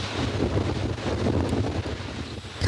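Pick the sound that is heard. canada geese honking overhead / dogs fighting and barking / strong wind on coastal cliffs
strong wind on coastal cliffs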